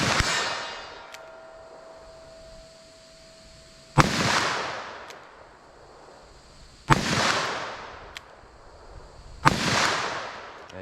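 Handgun shots fired at a target during a ballistic test of .357 Sig and .357 Magnum Underwood Xtreme Penetrator ammunition, four sharp loud reports spaced a few seconds apart, each with a ringing decay.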